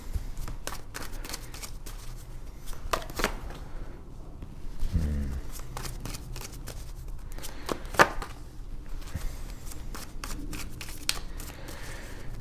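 Tarot cards are handled and shuffled nearby, giving irregular papery riffles and taps with a few louder slaps, over a low background rumble.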